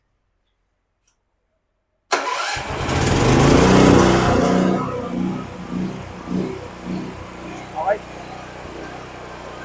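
A Blackstone 9.5 kW push-button-start generator kicks on after two seconds of silence, roaring loud and close, then settling into a steady running drone with uneven surges and a brief spoken word over it.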